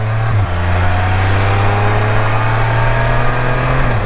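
A Can-Am Spyder's engine, loud and close, holds a steady drone, dips briefly as it shifts gears, then rises and holds again. Wind rushes over it and nobody speaks.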